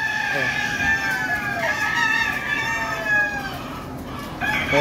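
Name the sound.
chickens clucking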